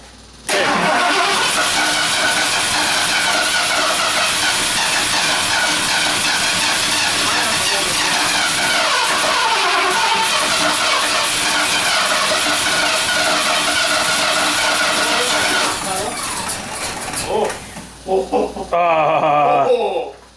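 A Ford 460 V8 engine with a fault cranks and catches, then runs loud and rough for about fifteen seconds before sputtering down, with a brief revving burst near the end.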